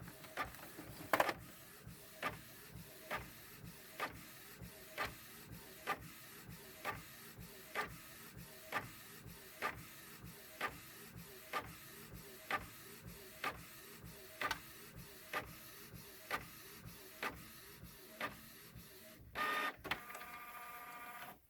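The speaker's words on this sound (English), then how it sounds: "So now we have it printing" An inkjet printer prints on fabric, running steadily with a repeating rhythmic clack-and-whir of the print head sweeping back and forth, ending in a brief rush as the page feeds out.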